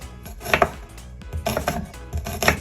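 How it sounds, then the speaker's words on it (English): A knife chops food finely on a cutting board for a chicken breast with shrimp stuffing, sharp close-up knocks in three quick bursts of rapid strokes, with no talking. "Chop this up. I'm going to cut this really fine, all right?"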